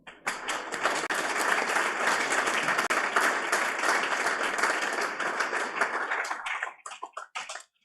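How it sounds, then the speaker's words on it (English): An audience at the Australian FinTech Awards gives a warm round of applause for a category winner: dense, sustained clapping that thins into scattered claps at the end. "warm round of applause for Wise Software"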